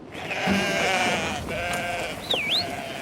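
Sheep bleating loudly and drawn out at a livestock market in Ludlow, several animals calling over one another in a noisy setting, with a brief whistle-like tone near the end.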